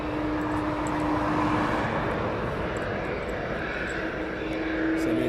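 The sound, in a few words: MNG cargo aircraft taxiing at East Midlands Airport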